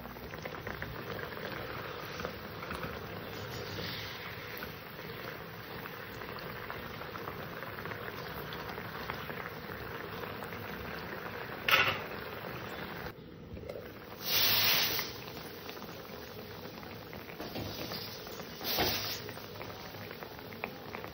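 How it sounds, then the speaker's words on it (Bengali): A Bengali katla fish curry with capsicum and potato simmers in a pot, a steady soft bubbling and hiss throughout, fairly quiet, broken by a few brief louder sizzles and clatters. "মাছ দুটো দিয়ে আবার সুন্দর করে ফুটিয়ে নেব তরকারিটা"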